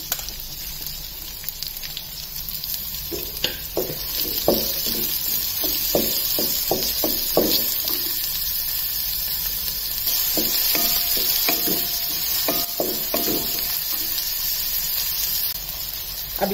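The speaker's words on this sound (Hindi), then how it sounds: "इधर ऑयल गर्म होने पर एक 2 ऑनियन मैं डाल लेती हूँ" Two large chopped onions fry in hot oil for a mixed vegetable bhaji, with a steady close sizzle and hiss and bursts of scraping stirs in short runs.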